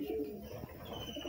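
Pigeons cooing nearby while drinking water before being put into their loft, a low soft cooing over a steady outdoor background with no talk.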